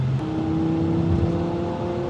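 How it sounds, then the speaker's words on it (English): A BMW M5 with a V10 engine revs steadily while driving down a country lane, a sustained mid-pitched engine whir and exhaust tone holding fairly constant and loud for a couple of seconds. "So just letting the revs build through this country lane"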